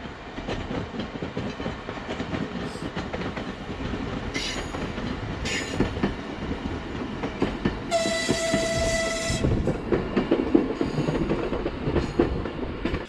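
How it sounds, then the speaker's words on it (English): A train rumbles past steadily on the main line to Nevelsk on Sakhalin Island, Russia, with rolling wheel noise, and a brief squeal of wheels rises partway through. "Perhaps we will even catch some trains from here."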